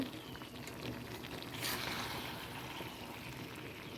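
Young jackfruit simmers in a home kitchen pot with the lid lifted off, giving a soft, steady bubbling hiss throughout and a brief brighter clatter partway through.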